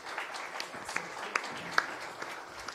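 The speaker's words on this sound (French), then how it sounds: "On peut les applaudir." Scattered audience clapping at an award ceremony, quiet and sparse with a few sharper individual claps standing out near the middle.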